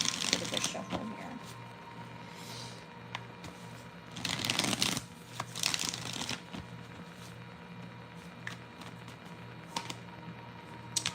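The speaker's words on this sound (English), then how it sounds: "Get a good shuffle here." Tarot cards are shuffled by hand in a steady papery riffle and rustle, with louder bursts of card flutter partway through and soft talk now and then.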